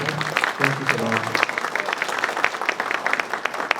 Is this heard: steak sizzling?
no